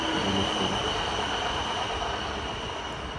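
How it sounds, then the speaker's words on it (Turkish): A steady, loud rumble of a train rolling past nearby, with dense low-end roar and a faint high whine, continuous throughout. "bir saniye arkadaşlar şu tren bir geçsin."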